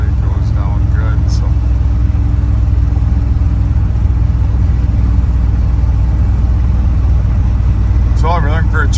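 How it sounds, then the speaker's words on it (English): A 1986 Chevrolet C10 pickup truck drives down the road with a steady, loud low engine drone and road rumble throughout, and brief voices are heard near the start and end. "here we're showing you that it does go down the road nice"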